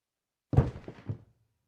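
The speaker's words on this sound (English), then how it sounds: "And this is me dropping an Amazon box." A cardboard Amazon box is dropped and lands with a hollow thud, then gives a few short rattling bounces and a scrape as it settles. It is close and fairly soft, with nothing else heard.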